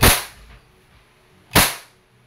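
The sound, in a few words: Crosman Phantom P10 airgun being fired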